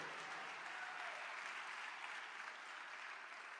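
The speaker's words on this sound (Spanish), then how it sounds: "Dale un aplauso fuerte al Señor." A church congregation applauds steadily in a broad, sustained wash of clapping that holds at an even level throughout, heard from a modest distance with no clear talk.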